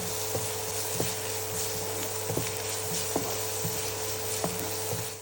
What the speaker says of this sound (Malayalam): എന്നിട്ട് നന്നായിട്ട് വീണ്ടും ഒന്ന് വഴറ്റി കൊടുക്കാം.